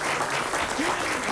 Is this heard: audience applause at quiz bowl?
yes